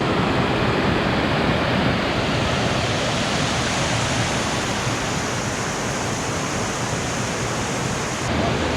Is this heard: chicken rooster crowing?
no